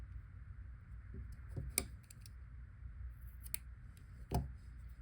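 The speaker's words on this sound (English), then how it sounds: "Let me trim these a little bit too." Sharp scissors snip the cord ends of a seashell necklace, with a few crisp, close cuts spaced out against a quiet, low background hum.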